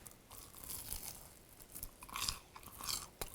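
Close, quiet crunching bites into a deep-fried skewer of rice cake, sweet potato and cheese in thin crispy batter, several crisp crackles followed by soft chewing with no talking.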